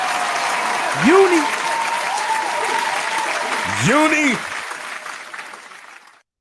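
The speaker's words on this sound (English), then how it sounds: "Round of applause for both of y'all." Studio applause on a mixshow set, a sustained round of clapping with voices cheering and calling out twice over it, then cutting off at the end.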